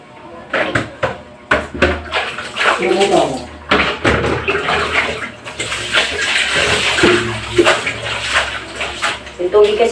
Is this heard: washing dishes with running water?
yes